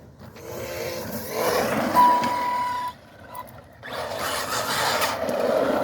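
An Arrma Mojave 4S RC truck whines and revs in fluctuating bursts during a bash session, with a brief high squeal, a short drop-out and then the motor surging again.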